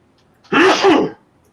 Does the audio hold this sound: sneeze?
yes